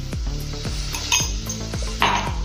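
A metal spoon stirs rice with chili flakes in a pan, scraping and clinking against the metal in a repeated rhythm over a soft sizzle, close and clear.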